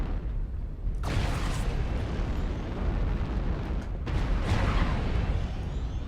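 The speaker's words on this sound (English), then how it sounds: "Artillery strike online." Artillery strike explosions in MechWarrior Online, two heavy booming blasts about three seconds apart over a constant dense rumble, loud and close, with no talking.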